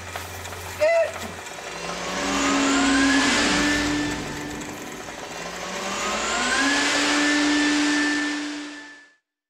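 An engine cranks and roars to life, revving up loudly and holding a steady drone, then surging again before cutting off abruptly.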